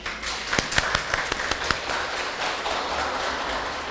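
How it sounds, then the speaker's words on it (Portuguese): An audience applauds a guest chef at a regional Missioneira cooking festival. A few scattered sharp claps build into a denser wash of clapping that holds fairly evenly to the end, with no speech. "Vamos receber com aplausos a nossa convidada."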